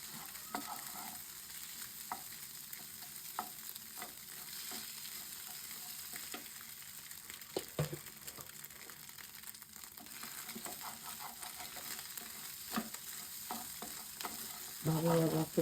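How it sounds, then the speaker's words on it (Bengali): Duck eggs frying in a pan with onion stalks, garlic and green chilli, giving a steady low sizzle with occasional stirring scrapes and clicks, close and unbroken by talk. "ভালো ভাজা করতেছি"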